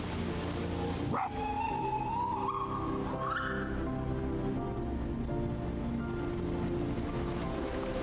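Animal calls voiced with dog noises stand in for a fox in the video game Spirit of the North: a single sharp yelp, then a rising whine, over steady rain-like background noise.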